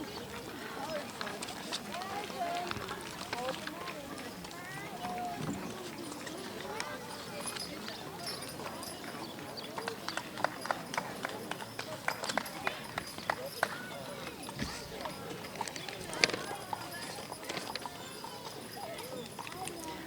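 A four-year-old spotted horse pulls a carriage through a parade with a steady patter of hooves on pavement, layered over crowd noise while someone narrates over a loudspeaker throughout.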